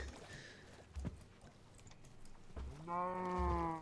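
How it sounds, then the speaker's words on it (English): Minecraft cow giving a short, harmonic moo near the end, preceded by soft scattered thumps and footsteps, fairly quiet overall. "And the cow really does not want to go."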